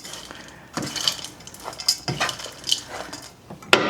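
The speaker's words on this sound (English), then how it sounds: "now I'm just gonna give this a nice little stir" Southern broccoli salad is stirred in a bowl with a utensil, giving a series of irregular close clinks and scrapes against the bowl's sides over a quiet background.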